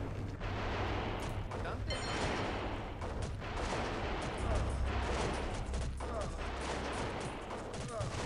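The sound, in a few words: cannon artillery fire in America: No Peace Beyond the Line video game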